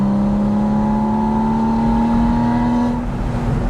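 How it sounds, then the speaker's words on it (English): Porsche Spyder engine pulling steadily under acceleration from inside the cabin, a loud smooth induction drone climbing slowly in pitch before easing off near the end. "You'll notice the induction sound will change"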